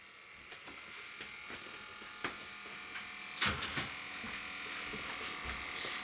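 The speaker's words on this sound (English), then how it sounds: "5 volt USB fan plugged into the cigarette plug" A small 5 volt USB fan, powered from a cigarette-lighter plug in a tiny house, runs with a faint, steady whirring buzz, joined by a few soft clicks and knocks.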